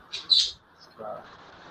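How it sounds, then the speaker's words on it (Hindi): Small birds chirp briefly near a home microphone during an online class, a couple of high tweets over faint room noise, with a short murmur of voice afterward. "आपकी आवाज, जैसे आवाज आ रही है मिट्टू की, पक्षियों की"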